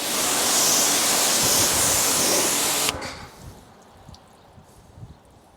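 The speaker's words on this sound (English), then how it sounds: "This is real sort of, water's just absolutely running off." Heavy rushing water sprays loudly for about three seconds off a 2007 Subaru WRX, then cuts off, leaving faint drips and splashes.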